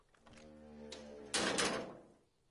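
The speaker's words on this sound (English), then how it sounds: "The container sounds a muffled gong." A muffled gong sounds from a container in a video game, a soft, low resonant hum followed by a brighter thud-like burst that fades out over about a second, quiet and alone.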